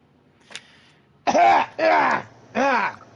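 Three loud, harsh coughs in quick succession from a character in the Project Shinobi campaign game, each a short rasping burst, preceded by a faint click and heard alone with no talk.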